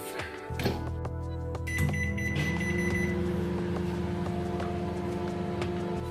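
A microwave oven melting chocolate with butter hums steadily after a few beeps and clicks at the start, its low drone continuing evenly without any talking.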